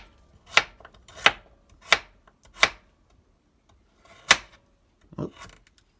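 A knife slices carrots into thin rounds on a cutting board, giving six sharp, evenly spaced chops close by, with a short pause before the last two.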